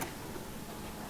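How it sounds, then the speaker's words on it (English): An electric fuel pump runs on an old school bus being revived from scrap, making a faint, steady, ticking hum that holds evenly from start to finish. "Fuel pump working."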